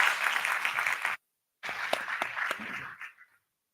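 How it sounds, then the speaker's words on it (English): Audience applause after a keynote introduction at the Enlit Africa conference, a dense burst of clapping that cuts out briefly, resumes with a few sharper claps, then fades away. "Let's welcome him with a round of applause."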